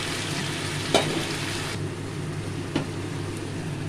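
Ground spices stirred into shrimp frying in a pan for a shrimp curry, a steady broadband sizzle with a couple of soft scraping stirs, close and without talk.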